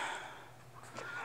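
A horse neighs briefly at moderate distance, a short whinny rising over faint background noise with no talk.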